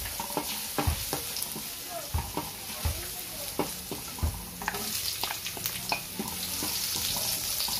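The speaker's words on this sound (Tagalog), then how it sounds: "igisa muna natin yung ating bawang at sibuyas" Garlic and onion sauté in a hot pan, a steady oily sizzle with repeated spatula stirs and scrapes knocking against the pan, close and continuous throughout.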